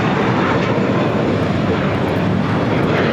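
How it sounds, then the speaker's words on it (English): A JetBlue Airbus A321 takes off at LAX bound for Fort Lauderdale, its engines a loud, dense, continuous roar at close range. "This is JetBlue Airways Flight 300 taking off to Fort Lauderdale on an A321"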